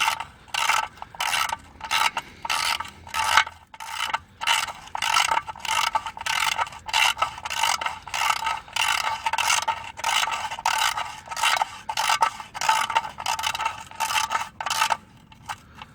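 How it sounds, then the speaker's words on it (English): A ratchet wrench tightens the oil drain plug on a 2004 Volkswagen Jetta, a long run of rapid clicking pawl bursts in steady back-and-forth strokes with one short pause, close and clear with no talk. "Then you're going to tighten your drain plug back up."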